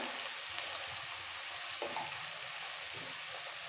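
Spices frying in oil for katla fish kalia, a soft steady sizzle with a few stirring scrapes, close and fairly quiet, with no voices.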